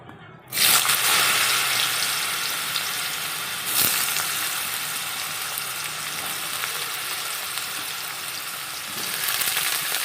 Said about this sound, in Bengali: আলু আর ফুলকপিটা একটু ভেজে নিয়ে তারপরে পেঁয়াজ আর কাঁচা লঙ্কাটা দেবো